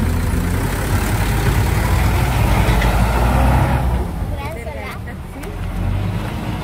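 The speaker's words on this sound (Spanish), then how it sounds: "Viene un carro." A car passes on a road beside pedestrians waiting to cross, a loud, broad engine and tire rumble that swells close and then fades as it moves away.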